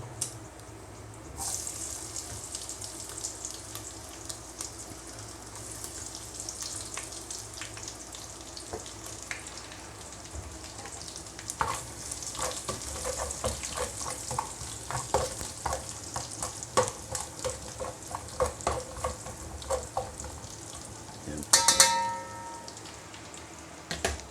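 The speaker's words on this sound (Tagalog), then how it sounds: "Ilalagay na po natin yung ating bawang." Garlic sautéing in hot oil for Filipino chicken with tomatoes, a continuous close sizzle with frequent scraping and clinking of a utensil stirring in the pan, ending in a brief louder clatter.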